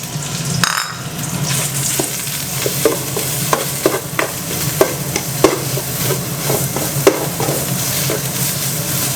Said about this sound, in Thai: เราก็ใส่พริกแกงลงไปค่อยๆผัดนะครับใช้ไฟอ่อนๆนะครับ